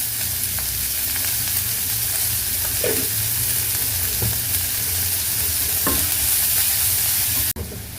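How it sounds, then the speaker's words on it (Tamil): Steady sizzling of salted onions frying in a pan for a ridge gourd stir-fry, with occasional stirring scrapes, continuous and fairly loud, ending in a brief click. "வெங்காயம் சேர்க்குறோம். போட்டு நல்லா வதங்கணும்."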